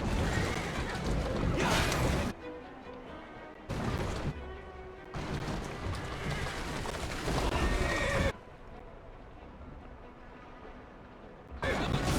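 A horse neighs and whinnies in Assassin's Creed Syndicate amid bursts of hooves and commotion, separated by quieter pauses with low background sound.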